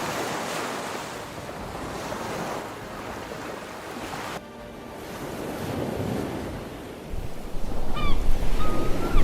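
Open ocean waves surge and wash in a continuous roar, with heavy wind buffeting the microphone and a few faint bird calls near the end.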